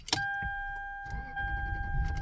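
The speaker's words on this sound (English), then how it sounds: "Let me turn on the car and show you guys." A Lexus LS sedan with about 189,000 miles is started, with a click, a short cranking burst and then the engine settling into a low, steady idle, heard close by inside the car alongside steady electronic chime tones.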